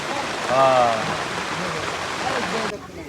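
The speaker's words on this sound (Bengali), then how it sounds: "বৃষ্টিতে আটকে গেছি আমরা" Steady rain hisses and patters outside a roadside tea stall, loud and continuous, with people talking over it before the wash cuts off sharply near the end.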